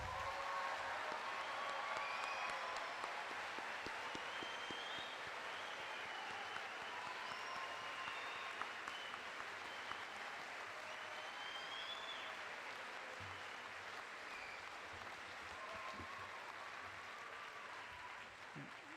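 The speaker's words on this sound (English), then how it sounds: "Can we just give the class a round of applause?" Sustained applause from an audience at a Class of 2016 school completion ceremony, steady dense clapping that holds evenly for about nineteen seconds at moderate distance, with faint crowd murmur underneath.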